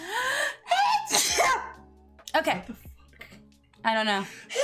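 A sneeze bursts out amid casual talk and laughter during a Super Mario RPG gaming session, a sharp explosive burst standing out close and loud among the chatter.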